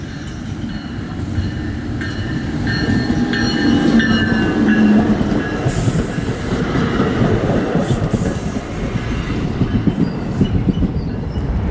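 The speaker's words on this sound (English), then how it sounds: "Here comes the eastbound train on the westbound track" An eastbound train rolls into Short Hills station, New Jersey, its rumble growing louder, with clacking wheels and high squealing as it slows close by.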